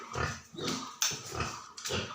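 A sow grunting and squealing in repeated short bursts, close by, with farmyard noise between the calls.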